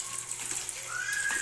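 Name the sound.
water running while washing pechay greens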